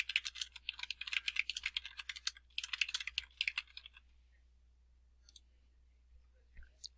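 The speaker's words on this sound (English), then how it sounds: "you just click directly in this box and type in what you want" Computer keyboard typing in two quick bursts of close, crisp key clicks, followed by a few scattered taps and near silence.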